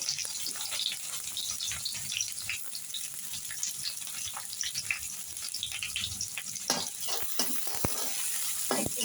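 Chopped onion and dried chilli frying in a pan, a continuous close sizzle with scattered light clinks and scrapes on top.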